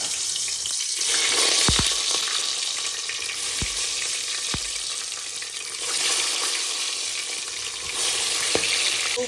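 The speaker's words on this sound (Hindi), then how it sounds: "अब मैं इसको करने वाली हूँ फ्राई। तो करते हैं बैगन को फ्राई।" Spice-stuffed brinjal frying in a pan, a steady close sizzle of hot oil with a few sharp knocks of a utensil against the pan, and brief swells where the frying flares louder.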